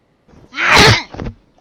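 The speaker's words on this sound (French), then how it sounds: "Excusez-moi, j'ai éternué." A single loud, close human sneeze with a short intake before it and a quick trailing breath after, heard alone.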